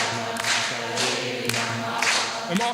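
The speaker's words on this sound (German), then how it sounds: "softes Klatschen." A group claps softly in a steady rhythm during an interactive bhajan and body-percussion performance, the claps landing roughly every half second over sustained musical tones.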